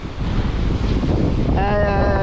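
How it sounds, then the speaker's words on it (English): Steady wind buffeting the microphone and rushing waves on an offshore sailing passage off Brazil, a loud continuous roar, with a faint tonal whine from the boat entering toward the end. "The wind picked up and it turned a little bit"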